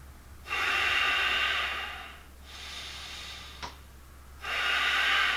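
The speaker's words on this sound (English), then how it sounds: "Deep breath." Slow, deep yoga breathing close to the mic: a long airy inhale, a quieter pause and softer breath, then another full drawn breath, with a low steady hum underneath and no talking.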